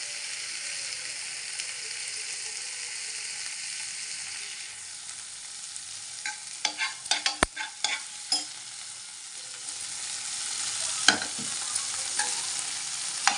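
Medicinal greens fry in a pan for chutney, giving a steady broad sizzle with a burst of clattering stir and scrape strokes midway and a few more near the end; no one talks.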